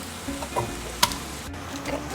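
Onion frying in a pan with a steady soft sizzle and faint crackles, plus a sharp clink of a utensil midway, no voices.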